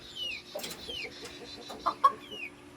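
A broody backyard hen clucks near the coop, with soft repeated clucks and a few sharper calls close by, set against a faint steady background hum.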